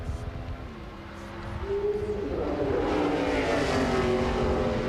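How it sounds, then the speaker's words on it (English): A NASCAR stock car passes on the Indianapolis racetrack during qualifying, its engine tone rising as it builds speed and draws closer. A commentator talks over the sound. "we have a car on the racetrack"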